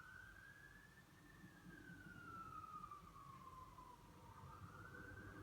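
A faint, far-off siren slowly wailing up and down, carried over a low background rumble of traffic.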